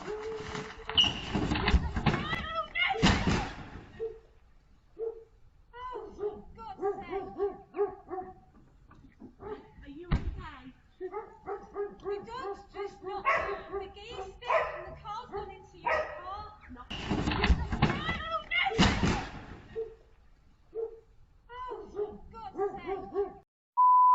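A dog barks, yips and whimpers in short bursts throughout inside a car, some sharp loud barks near the start and again later, with softer whining between and no speech.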